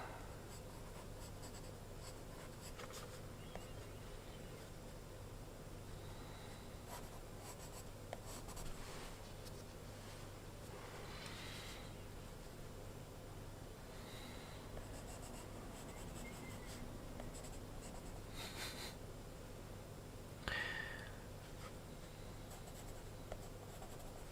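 A pencil scratches steadily across paper while a Darth Yoda drawing is sketched, giving a soft, continuous close scratching with occasional brief louder strokes and pauses, with no talking over it.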